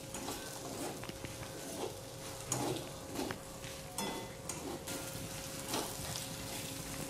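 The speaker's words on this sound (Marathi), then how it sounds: "दोन ते तीन लाल सुक्या मिरच्या, थोडासा कढीपत्ता, हेही छान परतून घ्यायचे।" Steady light sizzling and spluttering of dried red chillies and curry leaves sautéing in hot oil in a pan, with occasional soft stirring scrapes, close and continuous.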